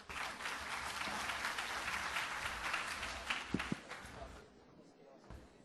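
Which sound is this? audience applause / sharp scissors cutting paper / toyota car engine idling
audience applause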